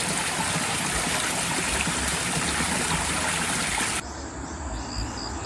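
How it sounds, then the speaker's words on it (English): A forest waterfall roars as a steady, dense rush of falling water, loud and continuous throughout with no voices, its tone thinning slightly near the end. "Waterfall! Yay!"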